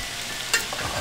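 Cauliflower rice searing in a dry pot with no oil, a steady close hiss with one brief scrape of a utensil midway.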